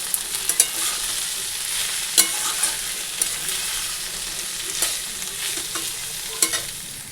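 Food fries in a pan on a home kitchen stove with a constant loud sizzle, punctuated by sharp spatters and occasional utensil taps.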